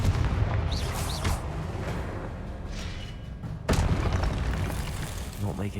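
Confringo blasting spell from Hogwarts Legacy going off in a duel, a sequence of loud booming explosive bursts with a sharp strong blast near the end, close and dense with game effects.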